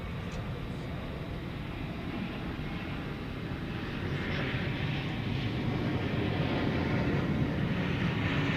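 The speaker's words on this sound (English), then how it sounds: "American Eagle 3567 to Rapid City has launched itself from runway 18 left." An American Eagle regional jet taking off from runway 18 left at DFW Airport at night, a steady broad engine roar that swells slightly louder in the second half, heard from a distance with no talk.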